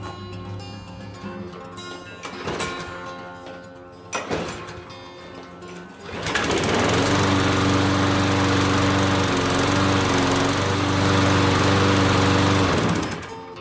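A push lawn mower freshly topped up with oil and gas is cranked with a few short pulls that sputter, then it catches and runs at a steady loud roar close by for several seconds before cutting off.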